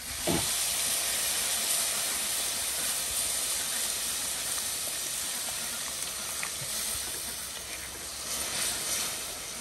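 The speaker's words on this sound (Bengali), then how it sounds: "একটু নাড়াই নাড়াই তো দিয়ে দেবো গরম জল" Hot water hits a frying vegetable curry in a pan, setting off a steady, broad steam hiss and sizzle. The sound stays fairly even and close, with a few sharper crackles and no talking.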